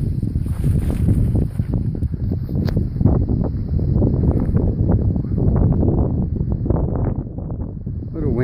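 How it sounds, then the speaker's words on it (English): Gusty wind buffets the microphone on the Appalachian Trail near a cliff, a low rumbling roar that rises and falls throughout, with faint background noise underneath. "A little windy."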